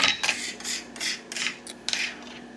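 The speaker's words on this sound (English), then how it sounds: "We have a grater here." Fresh Parmesan cheese rasps across a metal grater in about six quick, close strokes, each a short bright scraping burst with brief pauses between.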